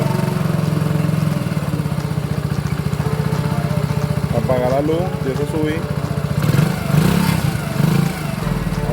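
An Eco Delux motorcycle with a battery that does not charge runs at a steady, close idle with a fast rhythmic putter, then revs briefly a couple of times near the end while someone talks over it.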